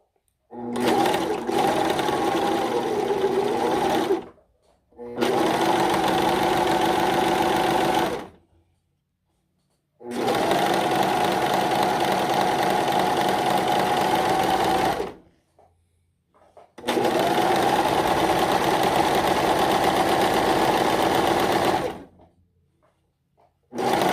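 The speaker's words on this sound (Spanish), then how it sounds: "aquí estoy cosiendo normal" A Singer S0235 sewing machine stitches fabric in four steady bursts of about four seconds each, with short silent pauses between runs, close and fairly loud.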